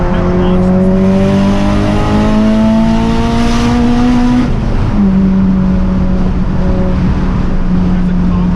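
A Subaru WRX launches and accelerates hard, its engine roaring loud and close as the pitch climbs, drops at a gear change and climbs again under heavy road and wind noise.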